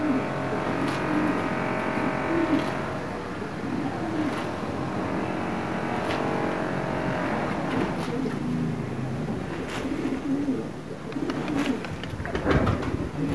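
Pigeons give low, soft coos at intervals, fairly close, against a continuous broad outdoor hum with occasional sharp knocks.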